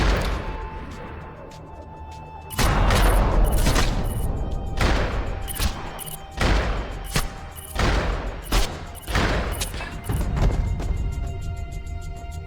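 Video game shotgun fire echoing down an indoor hallway, a series of loud booming blasts in irregular succession, each with a heavy low thump and a long ringing tail.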